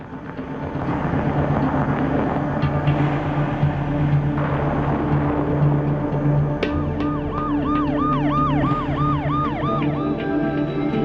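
An ambulance siren wails loudly and steadily in a rising-and-falling two-tone pattern over traffic rumble in a crime drama scene, with no talk.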